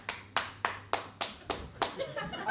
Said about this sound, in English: It's not just clapping, it's clapping like a clap.